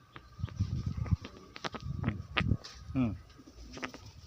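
Close cooing from a sick pigeon, a few throaty warbling coos with a soft krek-krek rattle, heard alongside light shuffling nearby.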